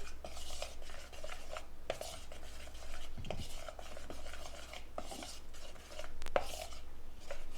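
Cream cheese icing mixture stirred in a bowl, with soft scraping and light clinks of the utensil against the dish under a steady low background hum, no talking.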